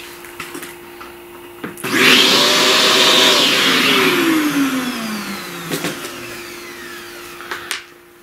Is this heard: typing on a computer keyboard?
no